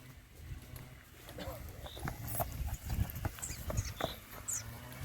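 A mare's hooves clip-clop in an irregular walking rhythm, fairly close but soft, while someone talks throughout.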